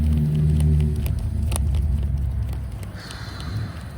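A KTM 1290R motorcycle engine runs on its first start, a loud, deep, steady rumble that eases slightly in level toward the end.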